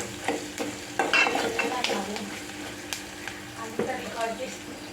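Peanuts frying in a pan with oil, stirred in quick scraping strokes that clatter over a steady sizzle, close and fairly loud, with no talk.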